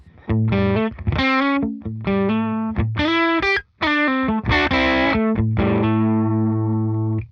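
Electric guitar through a raw, unprocessed Tonex tone model plays a short melodic phrase with a buzzy, distorted tone, loud and close, ending on a sustained ringing note.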